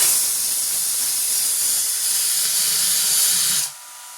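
A loud, steady hiss of steam escaping from a pressure cooker, cutting off abruptly near the end.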